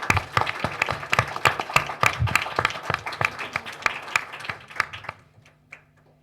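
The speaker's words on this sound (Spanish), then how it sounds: "Un aplauso a María Elena, por favor." Applause from a modest academic audience at a university literature colloquium, honoring a speaker. Distinct individual claps ring out close and crisp, fairly loud for about five seconds, then thin to a few scattered last claps before silence.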